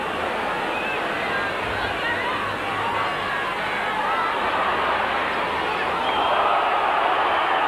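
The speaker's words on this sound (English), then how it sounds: "Crowd unhappy with that challenge." A rugby league stadium crowd at a 1996 Wigan versus Bradford match murmurs and grumbles in displeasure after a challenge, a dense, continuous roar of many distant voices.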